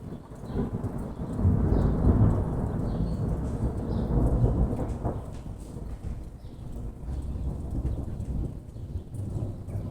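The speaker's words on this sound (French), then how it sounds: "les éclairs n'ont pas tous les mêmes intensités, c'est pour ça qu'ils font des bruits plus ou moins forts" Deep rolling thunder from a June storm rumbles continuously, swelling louder a couple of times before easing into a lower, steady growl.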